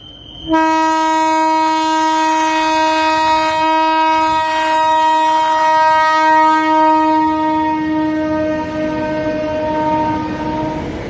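A train passes at a farmers' rail blockade protest in Punjab, its loud, near horn starting abruptly and sounding one long, sustained blast for about ten seconds over rumbling rail noise.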